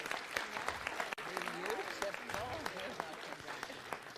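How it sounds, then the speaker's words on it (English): An audience at a city council meeting breaks into sustained applause, dense clapping filling the room with voices mixed in under it. "Let's give them a round of applause as they come."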